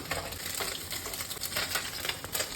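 Mustard oil heats in a pan before ridge gourd goes in, hissing and crackling in a continuous moderate sizzle with small pops scattered through it and no talk.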